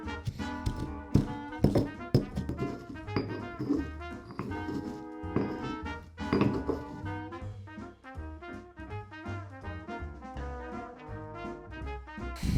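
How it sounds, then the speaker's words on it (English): Repeated tapping and clinking of a pestle pounding and grinding rock into pigment powder in a mortar, a busy irregular rhythm of sharp knocks running throughout with dense ringing overtones. "So I got this mortar and pestle"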